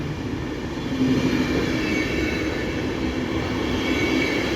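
Steady rumble of a Baltic Express passenger train wagon in motion between Berlin and Warsaw, a continuous close roar of wheels and carriage noise with faint squealing, no talk.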